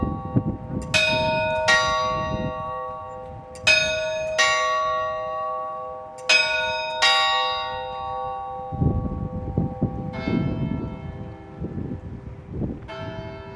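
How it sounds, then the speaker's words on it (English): Bell strokes from the medieval clock at Wells Cathedral ring out clearly in spaced pairs, each bright clang decaying slowly, followed by a lower, softer set of strikes near the end. "complicated mechanical figures which move and ring a bell every quarter of an hour"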